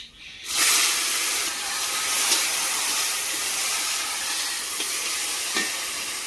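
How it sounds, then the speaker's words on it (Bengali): Five-spice and whole cumin seeds sizzle in hot oil for a village-style taro stolon dish, a steady loud hiss starting abruptly and holding throughout, with occasional faint stirring clicks and no voices. "এই দেখো ফোড়নে কিন্তু 5 ফোড়ন আর গোটা জিরে কিন্তু দিয়ে দিচ্ছি।"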